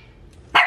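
One dog gives a single loud, sharp bark at the very end, close by, after near silence. The dogs are puppies being let out.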